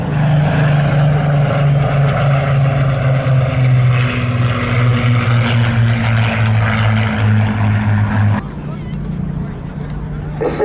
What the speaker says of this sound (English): here we come displaying for you now these two gorgeous aircraft, the Spitfire Mark 19 and the P-51 Mustang.